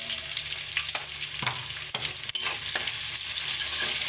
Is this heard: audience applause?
no